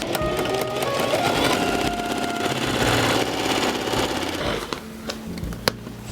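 An industrial sewing machine stitches through a stiff leather chair back panel, a fast, close mechanical hammering that runs steadily for about five seconds before slowing and stopping with a few clicks.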